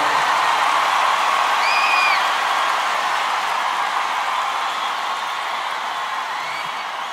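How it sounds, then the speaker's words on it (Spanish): Steady audience applause at a Christian worship music concert, a dense even wash of clapping and crowd noise that stays loud and fairly close throughout, gradually easing slightly toward the end, with no talking over it. "Den un aplauso fuerte"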